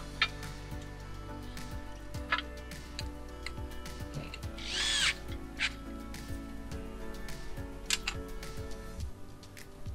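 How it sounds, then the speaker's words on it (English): Hand drill reversing rotation to release a well drill stem, giving a loose series of metallic clicks and ratcheting ticks over a low steady hum, with one brief squeaky scrape midway. "I'm going to release the drill by reversing the rotation, and it easily comes loose."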